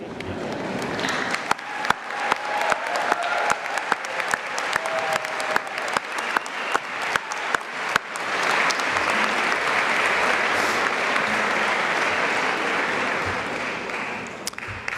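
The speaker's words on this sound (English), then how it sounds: "they're going to clap for all of you" Medical students applaud at a White Coat Ceremony, sharp individual claps at first that build into sustained, dense applause filling the hall for many seconds.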